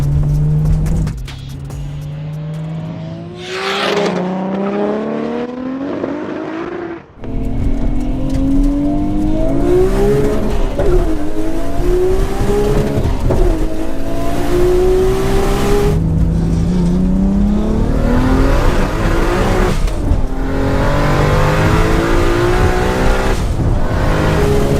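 A Nissan R34 GT-R and a Toyota Supra, rated around 800 and 900 horsepower, launch from a roll at about 40 mph. Engines rev hard and climb through gear after gear, loud and close, with a sharp break partway through and tire noise.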